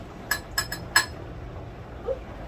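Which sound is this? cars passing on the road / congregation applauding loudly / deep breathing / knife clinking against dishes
knife clinking against dishes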